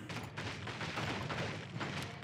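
Cannon fire in a video game, a dense run of booming shots and thuds overlapping in rapid succession, fairly quiet and with no talking.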